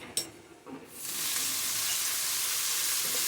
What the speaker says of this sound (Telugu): ఇప్పుడు సన్నగా తరిగినటువంటి కొత్తిమీరని ఇందులోనే వేసుకుందామండి.